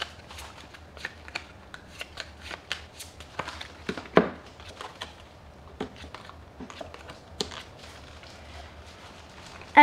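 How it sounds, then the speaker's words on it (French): Pokémon trading cards are shuffled by hand as a hand of cards is mixed back into the deck, a close, soft patter of flicks and riffles that goes on steadily with occasional sharper snaps. "c'est mélanger votre main avec votre deck"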